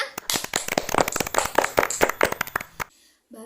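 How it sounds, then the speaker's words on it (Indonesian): Schoolchildren in a classroom clapping together, a burst of loud, sharp, close hand claps in a quick uneven rhythm that stops abruptly, followed by a moment of near silence. "Tepuk tangan untuk kita semua"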